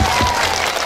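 An audience at a Sundanese religious sermon claps together in a short burst of steady applause, close and lively.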